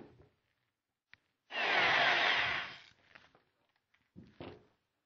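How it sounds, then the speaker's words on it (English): A power drill with a 5/16 or 5/32 inch bit bores through two layers of a rocket body tube, producing one loud grinding burst of about a second and a half amid quiet handling noises and a few faint knocks. "we'll just drill through both layers"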